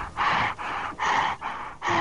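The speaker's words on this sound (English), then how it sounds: "I can breathe in my mic too, my guy." Heavy breathing straight into a microphone, four or five loud rhythmic breaths in quick succession, close and harsh with no talking.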